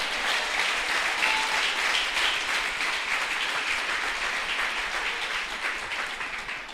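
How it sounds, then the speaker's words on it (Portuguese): Sustained applause from a large church congregation, dense and steady throughout, fading slightly toward the end. "você pode aplaudir o Senhor"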